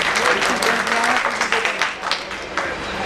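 Audience applause at an award ceremony, a dense wash of clapping that runs loud and steady for about three seconds with a few voices mixed underneath.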